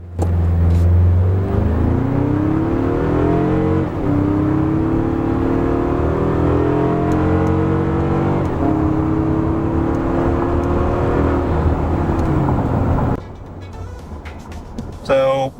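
A 2025 Toyota 4Runner TRD Off-Road accelerates hard from a standstill, its engine droning loudly and climbing steadily in pitch for about thirteen seconds before the noise drops off abruptly to a quieter cabin.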